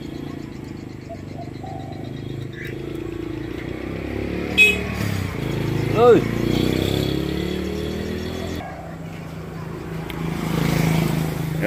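An old Evinrude 12 hp outboard engine runs steadily at close range, its rough motor drone rising and falling through a few revs, with brief speech over it.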